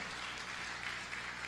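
A crowd at the outdoor Yeosu Marching Festival in South Korea gives a brief burst of applause. The clapping is steady and dense and is heard alone.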